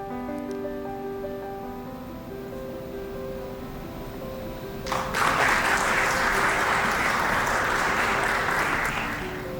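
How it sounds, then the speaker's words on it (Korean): Applause from the audience at a university anniversary award ceremony, beginning partway through over sustained background music and swelling into steady, dense clapping that carries to the end. "우수교원 모두에게 다시 한번 큰 박수로 축하해 주시기 바랍니다"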